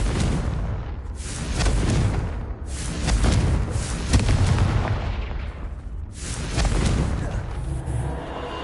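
Confringo blasting spells exploding in Hogwarts Legacy, a series of loud, rumbling booms with crackling bursts, coming in repeated waves with no pause in the blasts.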